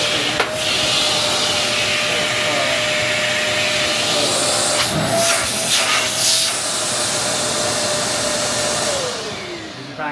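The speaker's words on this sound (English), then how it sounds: "this vacuum has really good suction power though." A Kenmore Elite upright vacuum cleaner runs with suction on, a loud, steady whooshing roar with a whining tone that dips briefly midway and then continues to the end.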